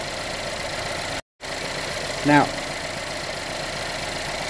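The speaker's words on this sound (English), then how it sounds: "Right now, we have the engine idling." A car engine idles steadily through a manifold absolute pressure sensor test, a low continuous hum throughout, briefly cut by a dropout and overlaid by a short spoken word.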